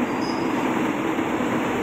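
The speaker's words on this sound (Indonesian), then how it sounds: "ada kereta lewat ya Mas ada kereta lewat" A train rolls past at a disused rural station at Kalasan, a steady broadband rumble of wheels on a straight stretch of rail, continuous and fairly close, with no voices.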